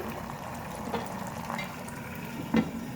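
Chicken cooking in a pan with green chillies for Indian-style chicken fried rice, a soft steady sizzle and bubbling with a few faint stirring taps, fairly quiet and without voices.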